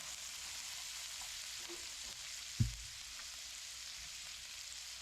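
Pepper frying gently in a pan over low heat, a steady soft sizzle with one brief bump of the pan partway through, no talking.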